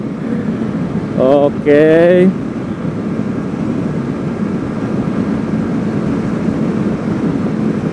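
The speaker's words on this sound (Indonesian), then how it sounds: "sekarang gua cruising di 6000 rpm gigi 6" A Honda CB150X motorcycle from 2022 cruises at 6000 rpm in sixth gear, a loud steady engine drone mixed with rushing wind; a rider's voice cuts in briefly near the start.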